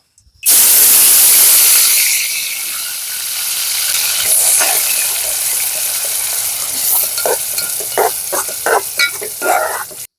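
Onion and tomato paste hits well-heated oil with a loud, sustained sizzle and hiss, settling into steady frying, then broken by a run of sharp stirring scrapes and clicks near the end; no one speaks.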